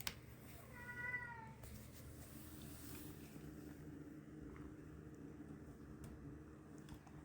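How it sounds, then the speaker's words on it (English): A house cat meows a few times near the start, a short wavering cry over a low steady background hum, followed by quiet rustling. "Don't mind that, that's just my cat."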